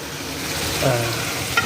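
Moringa drumstick pods are added to a hot pan with garlic, turmeric and chili for a dried-fish curry, producing a steady sizzle with a stirring scrape and a light clink near the end.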